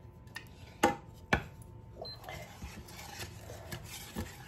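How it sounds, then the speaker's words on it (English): Pineapple sauce stirred in a pan with a utensil, two sharp metallic clanks early on followed by softer scraping, tapping and light knocks against the pan, close and fairly quiet. "So I'm just gonna stir this up a little."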